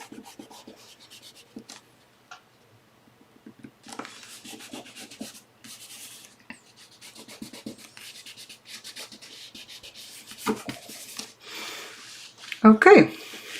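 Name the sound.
rubbing paper down smoothly on an envelope craft project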